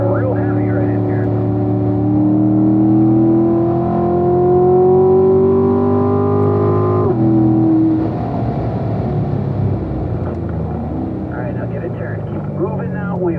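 A Corvette on the Spring Mountain race track comes off the brakes and back onto the throttle, its engine note rising in steady harmonic sweeps, dropping sharply at a shift and then climbing again, loud and close, while an instructor talks over it throughout.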